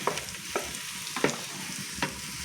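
Chopped ginger, garlic, crushed bird's eye chillies and curry leaves frying with onions in a pan, a close, steady sizzle broken by a few sharp stirring scrapes and crackles, with no voices.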